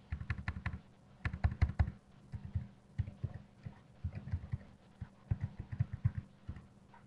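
Someone types a password on a computer keyboard at a Windows Server 2012 login, giving close, crisp key clicks in quick bursts and short pauses, the final keystrokes landing firmly.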